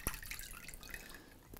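Water poured onto Gore WindStop sleeping bag fabric lands as a faint trickle with a few scattered drips, quiet and close, with no talking.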